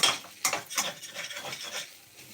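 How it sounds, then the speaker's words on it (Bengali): Utensil scraping and tossing egg vegetable chow mein in a pan, quick repeated metallic scrapes and clatters close by, with no voices. "একটু নাড়াচাড়া করে চাউমিনটা নামিয়ে নেব"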